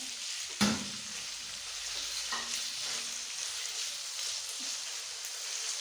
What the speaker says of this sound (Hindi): अब 2 से 3 मिनट तक चिकन को भूनेंगे